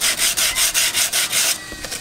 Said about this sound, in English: With a piece of sandpaper.